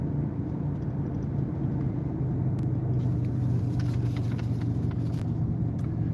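A car rolls slowly with the driver's foot off the gas, giving a low, steady interior rumble of tires and engine with faint ticking near the end and no talking.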